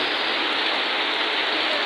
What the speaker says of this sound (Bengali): প্রচণ্ড বৃষ্টি আর ঝড় হচ্ছে আমাদের এখানে